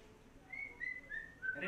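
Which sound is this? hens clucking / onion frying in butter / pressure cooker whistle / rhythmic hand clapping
pressure cooker whistle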